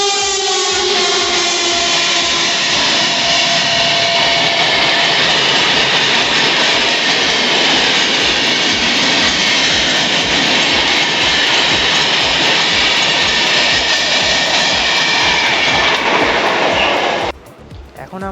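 The Patna Jan Shatabdi Express from Howrah pulls into Madhusudanpur station with a loud, sustained rumble, grinding wheels and a steady metallic drone that cuts off abruptly near the end.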